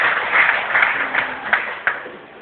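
A church congregation claps during a Sunday service, with a band-limited, muffled patter of hands that swells and then breaks into a few sharper claps.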